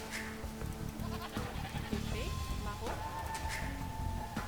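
Sheep bleating in the Age of Empires 2 video game, a few short bleats among game effects while someone talks over them.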